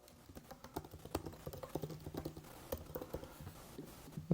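Fingers tap at a computer keyboard in a steady, busy run of light clicks, close and fairly quiet, with no voices over it.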